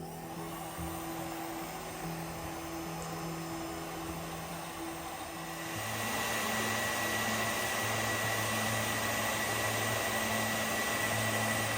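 A hair dryer blows with a constant whooshing roar, shifting to a louder, higher setting partway through and continuing steadily.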